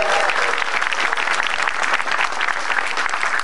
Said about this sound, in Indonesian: Tepuk tangan dulu buat Metro TV dong.